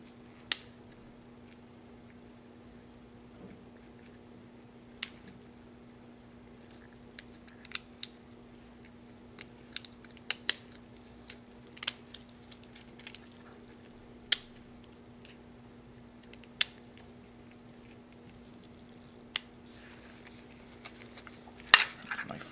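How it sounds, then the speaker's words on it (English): Scissors snip through a crayfish carapace during a dissection, giving sparse, sharp clicks and cuts at irregular intervals over a quiet steady hum. "I'm going to remove the portion of the carapace that covers the head. And again, I'm going to use my scissors."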